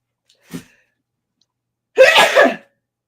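A single sharp human sneeze bursts out loud and close, preceded by a faint short intake of breath, in an otherwise quiet room during a casual chatty show.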